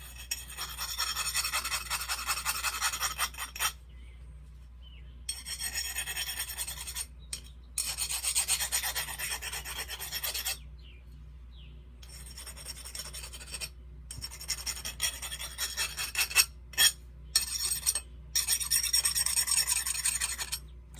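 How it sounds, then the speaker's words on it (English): Small round file rasping against a San Mai knife blade, repeated close scraping strokes in bursts separated by short pauses. "So, got a little round file"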